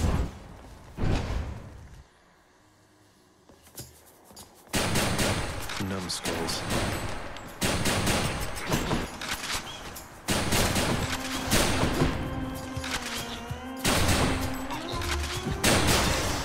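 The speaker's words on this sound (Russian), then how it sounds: "Ну да, это дробовик." Shotgun blasts in the action roguelike video game Hades, a series of sharp, heavy bursts with a brief quiet gap early on, then repeated booming shots and impacts layered with game effects.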